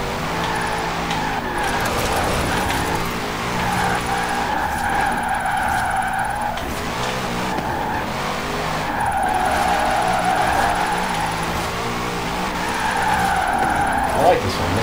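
A car drives fast in the racing game Forza Horizon 4, its engine droning and rising in pitch as tires squeal and skid through repeated bursts, loud and close throughout with no voices over it.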